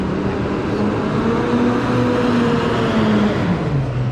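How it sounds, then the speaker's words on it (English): Loud truck passing close by on a highway in the Florida Keys, a steady heavy engine roar and rumble with a shifting engine tone as it goes past. "That was a loud truck."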